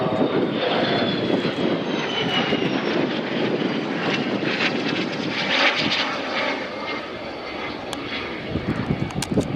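An Albatross aircraft flies past at the Royal International Air Tattoo 2014, its engine roar loud and sustained, rising and swelling as it passes overhead.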